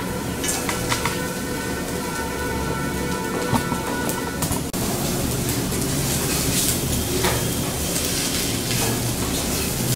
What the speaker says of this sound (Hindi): आमचूर पाउडर डालकर अच्छी तरह से भून लेते हैं अरबी को इसमें डालकर इसको मिक्स कर लेते हैं